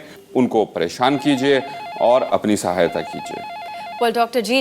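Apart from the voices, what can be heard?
telephone bell ringing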